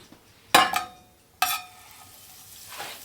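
Butter hits a hot pan with two sharp, bright sizzling bursts that quickly fade, then a softer sizzle rises near the end.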